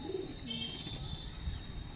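Pigeons in a loft give off low, soft cooing that murmurs steadily through the scene, with a few brighter chirps and a faint high tone running beneath.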